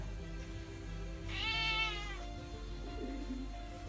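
A cat meows once in a drawn-out, rising and falling cry, close and fairly loud against a steady indoor background hum, with no talking.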